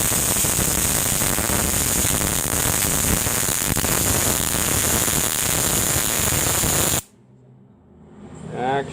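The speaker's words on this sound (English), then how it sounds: "A little welding. This is going to be hot because I got no glove on." Welding on a Plymouth Cuda car project, a loud, steady crackling hiss that runs continuously for about seven seconds, then cuts off abruptly into near silence with faint sounds after.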